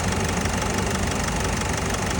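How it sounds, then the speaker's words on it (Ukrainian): A 2.0 dCi diesel engine in an Opel Vivaro Long van idles with a steady, rumbling drone and a slight knocking texture, close and constant throughout with no talking. "Послухайте, як муркає двигун."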